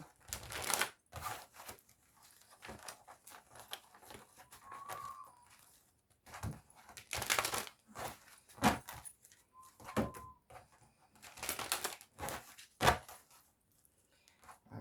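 Several bursts of papery riffling as tarot cards are shuffled, each a second or so long, spaced apart with quiet pauses between, close and fairly soft.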